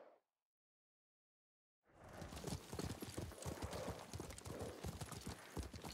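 A horse in Ghost of Tsushima clip-clops at a steady, rapid trot after a brief silence, the hoofbeats close and continuous.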